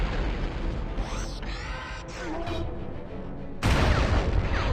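Enemy gun turret firing in Turok 2, a dense run of booming shots and blasts that fills the whole stretch, growing louder and harsher near the end, with no voices.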